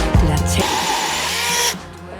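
A Revolt BCS 280 mini battery chainsaw on a 4 Ah battery cuts steadily, its loud close electric motor whine rising under load and dropping off as the cut ends.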